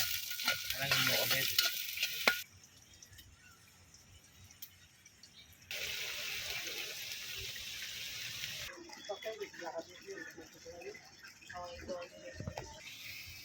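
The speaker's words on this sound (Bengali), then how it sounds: "এখন আমি পেঁয়াজগুলো একটু বাদামি কালার করে নিব" Onions frying in a pan toward browning, with a loud sizzle that drops away and comes back in stretches, broken by occasional stirring clatter. A voice is heard in places.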